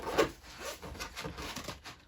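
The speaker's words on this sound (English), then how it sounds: "Sorry, I was shuffling for some time, sorry." Tarot cards shuffled by hand during a reading, one sharp riffle at the start, then a run of soft, rhythmic rubbing and sliding strokes close up, with no talk.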